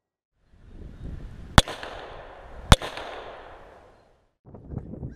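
Two sharp, loud gunshots about a second apart strike a wooden spall liner set inside a cardboard box, each crack trailing off into a broad noisy wash, followed by faint rustling.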